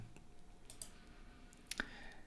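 A computer mouse clicks a couple of times, short faint ticks over a low steady hiss.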